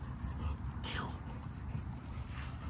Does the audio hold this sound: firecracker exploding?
no